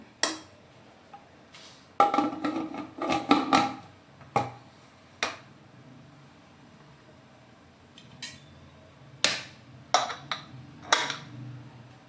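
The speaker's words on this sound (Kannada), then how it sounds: "ಈಗ ಕುಕ್ಕರ್ ಲಿಡ್ ಮುಚ್ಚೋಣ." A pressure cooker lid is fitted and closed in a home kitchen while chicken curry cooks, making a series of close metallic clicks, clanks and taps in short bursts with pauses between.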